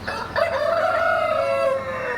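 A Tiger breed rooster crows once on a poultry farm, a long drawn-out call, close and clear with faint farmyard noise behind.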